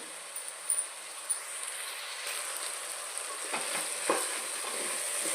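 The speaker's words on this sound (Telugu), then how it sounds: "ఇప్పుడు ఇవి బాగా ఫ్రై చేసుకోవాలి." Vegetables, including beans, fry quietly in a pan for meal maker biryani, giving a soft, continuous sizzle with a few light scrapes and taps of a spoon and no speech.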